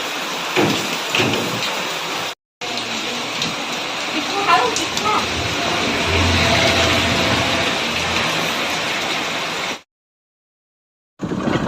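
Heavy rain pours down outdoors in a steady, dense hiss that holds throughout. Voices talk over it, and the sound cuts out briefly twice.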